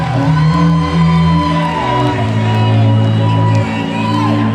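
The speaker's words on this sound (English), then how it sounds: "as loud as the cheering was for Alberto, it is 10 times as loud for Andrew" A loud arena crowd at a fight event roars, whoops and shouts for a fighter walking out, a dense sustained wall of cheering with a commentator's voice running underneath.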